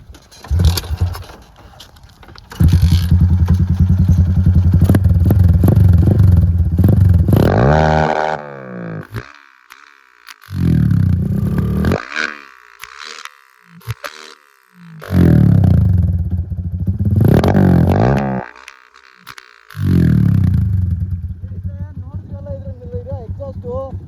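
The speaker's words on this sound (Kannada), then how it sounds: "ಒಂದೇ ಒಂದ್ಸರಿ ಎಕ್ಸಾಸ್ಟ್ ನೋಟ್ ಕೇಳಿಸ್ಕೊಳ್ಳಿ." A rebuilt, modified Suzuki Fiero motorcycle with a built-in exhaust is revved hard in several loud, close bursts, its exhaust note roaring and dropping back to a rumbling idle between throttle blips.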